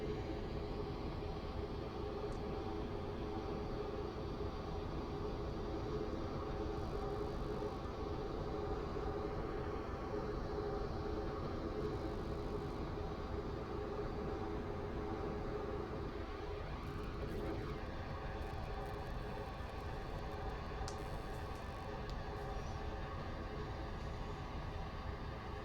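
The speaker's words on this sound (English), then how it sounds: "This is a Connect train to Stepford, Victoria." A Connect train on the Roblox Stepford County Railways game runs with a continuous, steady rolling drone and hum, unbroken throughout with no talk.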